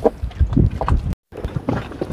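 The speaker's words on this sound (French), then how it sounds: "Là, on est à bord de l'annexe, donc on a un petit peu plus de bruit ambiant." Ambient noise aboard a small dinghy with an outboard motor: water slapping and gurgling against the hull with wind buffeting the microphone, broken by a brief moment of silence.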